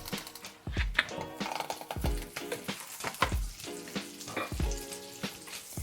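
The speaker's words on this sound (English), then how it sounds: "leave it to cook until the maple syrup is bubbling away and becomes very, very sticky" Maple syrup bubbles and sizzles in a pan around French toast and bananas, a soft steady crackle punctuated by regular clunks of stirring or pan movement.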